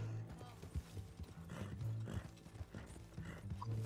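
Horse hooves clip-clop in Red Dead Redemption 2, a steady rhythmic trot close by with a low rumble and faint game ambience underneath, voices briefly chatting in the background.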